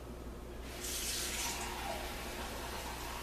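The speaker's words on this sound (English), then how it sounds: "We're going to add water to that, and we're going to boil that." Water runs into a pot of shrimp shells for boiling a stock, a steady close pouring rush that sets in after a moment and holds to the end.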